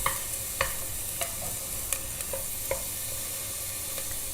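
Onion sautéing in a wok for a burnt chilli garlic mushroom soup: a steady soft sizzle with a string of sharp spatula clicks and scrapes at irregular intervals, close and moderately loud, with no talking.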